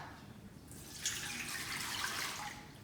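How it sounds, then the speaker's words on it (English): Water from a cup is poured into the inner pot of an electric pressure cooker, a soft, steady splashing rush that starts about a second in and runs on, quiet and close, with no talking. "Put about 2 cups of water in the pot."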